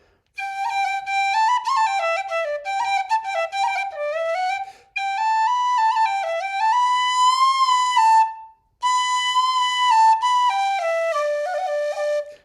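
A tin whistle plays a lively, bright melody with quick ornamented notes, pausing briefly twice before continuing, clear and close.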